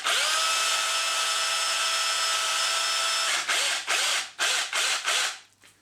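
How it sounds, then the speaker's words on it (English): An electric drill without hammer action bores into an aerated concrete wall through plaster, a loud steady whine running for about three seconds, then a series of short start-stop bursts before it winds down. "I'm going to continue drilling"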